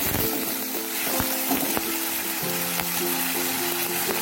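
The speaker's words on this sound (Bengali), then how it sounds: "পেঁয়াজটা প্রায় লাল হয়ে আসছে" Onions sizzle and fry steadily in a hot pan for a Bengali rupchanda fish dish, a dense continuous crackle with occasional sharp pops and stirring clicks, close and alone without talk.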